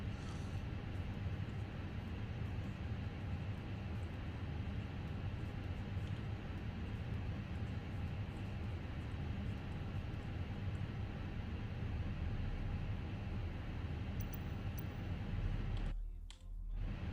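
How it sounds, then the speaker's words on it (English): Fenix A320 airliner engine number 1 starting up in Microsoft Flight Simulator, heard as a steady, broad, rumbling whine that holds evenly for many seconds before cutting off abruptly near the end. "Engine start to ignition. Engine number 1."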